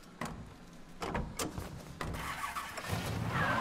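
An old, run-down car's engine cranks and starts in the video game Mafia 3, with a few sharp mechanical knocks followed by a rising, steady rumble that fills the short clip.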